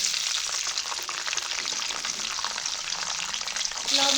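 Beans sizzling steadily in hot oil with salt and turmeric for a Bengali mixed-vegetable curry, a dense continuous crackle and spatter close up, with no talking.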